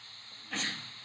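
A single sneeze bursts out at mid-distance after a quiet room tone, a sharp noisy onset that trails off over about half a second, with no talking.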